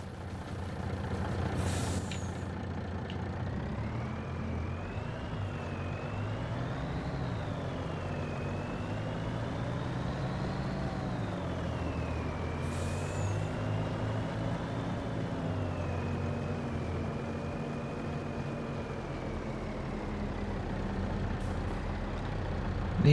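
A truck in the Farming Simulator 25 video game on a Huron County, Michigan map, a steady engine drone with shifting pitch as it drives, and a couple of short air-brake hisses.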